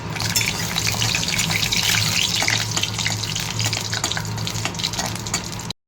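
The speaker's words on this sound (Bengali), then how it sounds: "লঙ্কা ভেজে নিয়েছি।" Green chillies fry in hot oil in a wok, a dense, crackling hiss that stays loud and steady throughout before cutting off abruptly.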